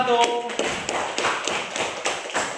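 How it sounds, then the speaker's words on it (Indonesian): A classroom group claps for a group of students who have just presented, a short burst of scattered claps with a voice briefly heard at the start. "tepuk tangan untuk kelompok"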